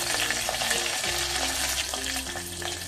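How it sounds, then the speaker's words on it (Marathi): Crushed coriander seeds and curry leaves crackle and sizzle in hot oil for a Konkan kokum solkadhi, a dense close spitting hiss with scattered sharp pops and a stirring scrape. "छान तडतडू द्यायचंय आपल्याला."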